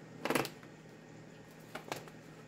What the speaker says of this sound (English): Let me just shuffle them one time to wake the cards up